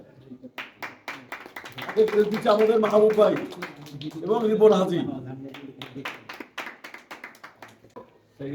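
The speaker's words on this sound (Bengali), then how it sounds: "সবাই হাতে তালি দেয়" Hand clapping from a group of people at a pigeon club tournament prize ceremony in Mirpur, a patter of claps running under and between someone speaking into a microphone.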